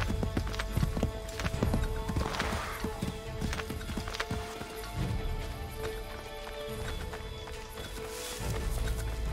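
A horse gallops in the video game Assassin's Creed 3. Steady, dense hoofbeats clop along with a quick whinny, set against a busy outdoor game soundscape.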